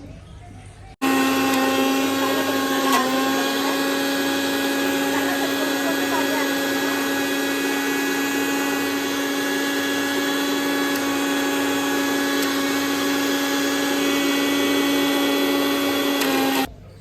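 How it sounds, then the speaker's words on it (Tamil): A mixer grinder grinds chana dal, starting abruptly into a loud, steady motor whine that holds unbroken for about fifteen seconds before cutting off. "கடலைப்பருப்பு நல்லா அரைச்சி போட்டாச்சு ஃப்ரெண்ட்ஸ்."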